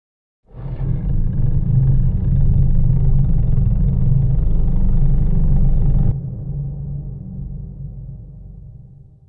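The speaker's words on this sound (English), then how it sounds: "these earthquake one shots are really great at providing some deep rumbling subfrequencies" An earthquake one-shot from the Amber library for Kontakt: a deep, sub-heavy rumble swells in quickly, roars steadily for about six seconds, then drops to a quieter low tail that fades out.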